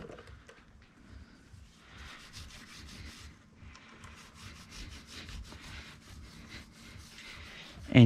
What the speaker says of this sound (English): Just keep rubbing, picking up all the gunk.